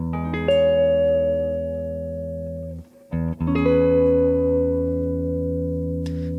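Electric guitar played through a warm, thick Fender-style amp simulation plugin, heard as sustained chords that ring out with a brief break partway through, clean and up close with nobody talking.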